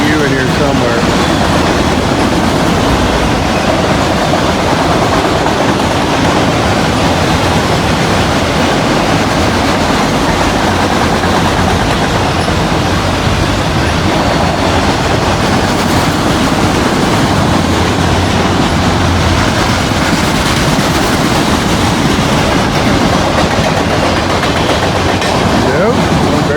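An I&O freight train with locomotives passes close by in a continuous loud rumble with rolling wheel clatter from the cars that lasts the whole time.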